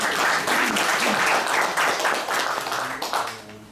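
A crowd at a forum meeting applauds, dense steady clapping that holds strong for a few seconds, then thins and tapers off near the end.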